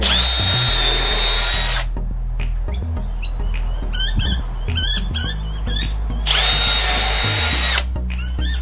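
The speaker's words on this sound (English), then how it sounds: "now we're putting another pilot hole before it drive the screw in" An M12 drill driver bores a pilot hole for a screw, its high motor whine running in two sustained bursts at the start and end with gaps of clicks and handling in between, loud and close.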